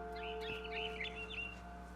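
Quick, high bird chirps and tweets flutter over a steady humming drone, fairly close and lively for a second or so, in the video game What Remains of Edith Finch.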